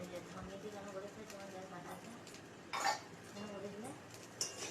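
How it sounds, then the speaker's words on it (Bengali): Spatula scraping and clinking in a pan as chowmein is tossed together with fried potatoes and egg, soft steady metallic scrapes with a couple of louder knocks, under a low background hum. "আর এবার সবগুলো একসাথে মিশিয়ে নেব।"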